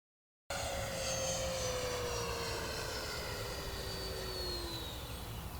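FMS 64mm F-16 Fighting Falcon EDF model jet flying past, a steady ducted-fan whine that slowly drops in pitch as it passes, continuous and moderately distant, with no talking.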